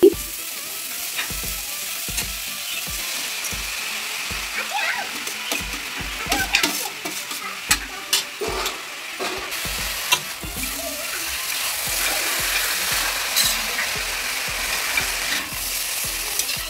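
Grated carrots for gajar halwa are stirred in a large kadhai, with a spatula scraping and clacking against the metal in irregular strokes over a steady sizzling fry.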